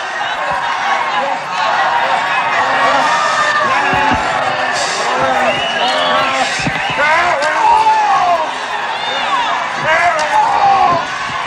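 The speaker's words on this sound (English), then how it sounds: "Crowd begins to chant, Bruiser," A wrestling crowd at a 1986 steel cage match between One Man Gang and Bruiser Brody chants "Bruiser" and roars steadily, with a commentator talking over the noise.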